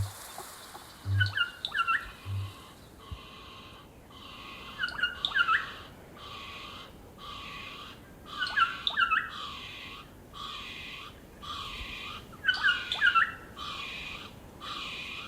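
Kākāpō, the New Zealand night parrot, gives repeated harsh squawking calls in short bursts at a regular pace over a quiet hiss of background noise, with no talk.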